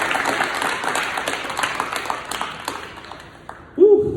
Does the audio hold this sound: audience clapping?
yes